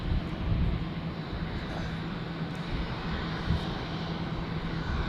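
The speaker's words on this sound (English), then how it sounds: "we have a smaller Edelweiss aircraft coming up from our left" A smaller Edelweiss passenger aircraft at Zurich Airport, its engines producing a steady, loud, broadband roar that holds constant throughout, heard from the ground during plane spotting.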